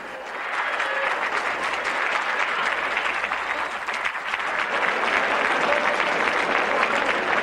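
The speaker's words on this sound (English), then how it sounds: "let us take a moment to proudly applaud ourselves" Theatre audience applause at the end of a performance: sustained, dense clapping from a large crowd, steady and fairly loud throughout with no pauses.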